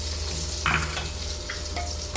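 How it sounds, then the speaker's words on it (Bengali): Tomato and onion fry in a pan while being stirred, a steady sizzle broken by a few short scraping strokes. "টমেটো পেঁয়াজটা দিয়ে একসাথে একটু নাড়াচাড়া করে নিলাম।"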